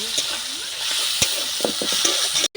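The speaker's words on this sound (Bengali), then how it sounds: "চিংড়িগুলো ভালো করে মরমরিয়ে ভেজে নেব" Shrimp crisp-frying in a pan for a shapla (water lily stem) curry, a steady hiss of sizzling oil with scattered spatters and stirring knocks, close and continuous before a brief cut near the end.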